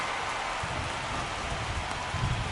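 Steady rain pours down during a baseball game in the MLB The Show video game, a dense, even hiss with low rumbling patter underneath, continuous and fairly loud throughout with no talk.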